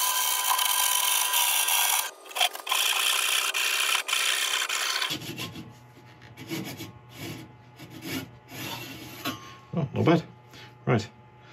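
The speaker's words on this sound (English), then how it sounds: "then finish it off with a handsaw." A handsaw cuts through a laburnum log in a woodturning workshop, with rhythmic rasping strokes following an earlier steady machine drone, the irregular pulls close and moderately loud.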